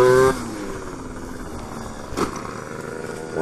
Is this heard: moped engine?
yes